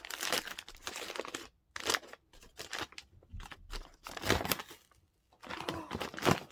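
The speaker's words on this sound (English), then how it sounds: "Okay, so let's unwrap." Wrapping paper is pulled off a book gift, giving close, loud bursts of crinkling, crunching and tearing in irregular handfuls with brief quiet gaps between them.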